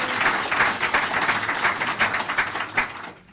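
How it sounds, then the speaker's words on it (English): An audience on a live Nigerian call-in radio programme claps for the presidency, a steady dense patter of many hands that stays even throughout and fades toward the end, with no talk over it. "Make we clap for presidency."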